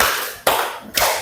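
Three hand claps in a classroom clapping game, spaced about half a second apart, crisp and moderately loud with a short room tail after each and no talk.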